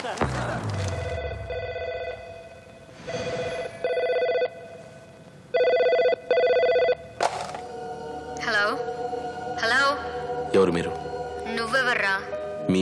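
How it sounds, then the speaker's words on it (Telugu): In a Telugu film scene, a telephone rings in repeated bursts of electronic trilling, clear and moderately loud, and then people speak over continuing tones. "ఢిల్లీ నుంచి ఫోన్."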